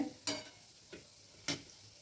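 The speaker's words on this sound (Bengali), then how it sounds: "সবসময় এরকম নাড়তে হবে।" Pantua mixture stirred in a pan over low heat, giving three separate soft scraping strokes spaced apart, quiet and close, with faint background hiss between them.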